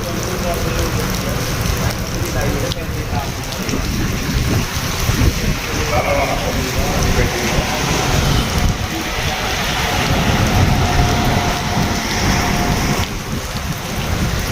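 Heavy rain pours steadily through a thunderstorm with low rumbling thunder throughout, loud and close, with gusts of wind.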